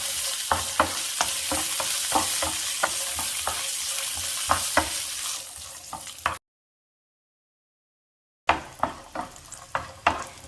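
Cashew nuts and raisins frying in a pan, sizzling steadily while a spoon scrapes and stirs in repeated sharp strokes; a short silent gap falls midway before stirring clicks resume.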